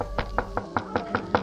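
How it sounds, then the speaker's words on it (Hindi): Eight evenly spaced knocks on a hard surface, steady and fairly close, like rapping on a shut window. "उस कमरे के बंद खिड़की पर ठक ठक की आवाज सुनाई देती है।"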